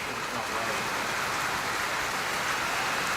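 Steady heavy rain pours outdoors during live flood coverage of evacuations in Kerrville, Texas, a dense unbroken hiss filling the whole stretch, close and loud.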